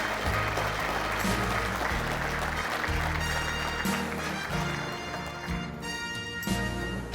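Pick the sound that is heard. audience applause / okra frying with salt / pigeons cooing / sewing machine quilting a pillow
audience applause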